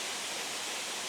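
Rushing waterfall at the Pool of Siloam in the Blue Mountains, a steady broadband wash of falling water, faint and continuous with no voices.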